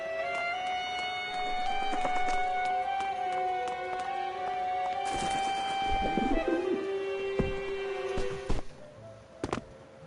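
Pigeons cooing with steady, rolling coos over a long stretch, close by, with a few sharp knocks and rustles near the end and no speech.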